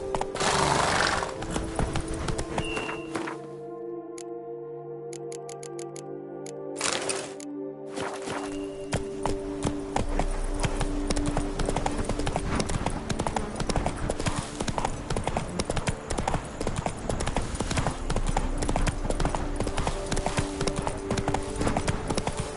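Horse hoofbeats from riding in the video game Witcher 3: Blood and Wine, a steady clip-clop of hooves with a neigh near the start, loud and continuous, with music and game sounds beneath.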